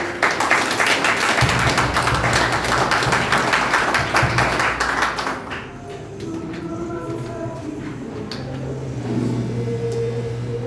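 A crowd claps loudly in a dense burst for several seconds, then the applause quickly dies away, leaving a quieter room with a low hum.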